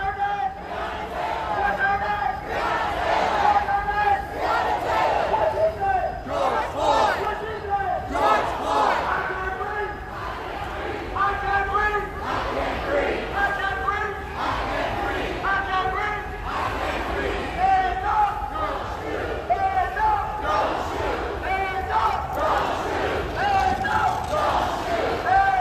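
Protest crowd on a Dallas street chanting in loud, rhythmic unison, the voices echoing and reverberating steadily throughout.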